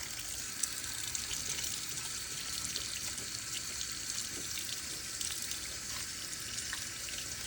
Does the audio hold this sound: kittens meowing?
no